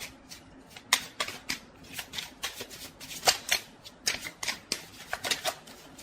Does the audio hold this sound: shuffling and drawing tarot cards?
yes